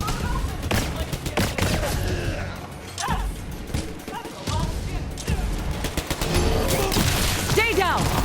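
Gunfire while shooting enemies in Borderlands 3, loud rapid shots and crashing impacts over several seconds, mixed with voices talking.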